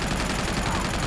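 A mounted turret gun firing in the action game Uncharted 2, a steady, rapid stream of loud automatic shots with no pauses across a short burst.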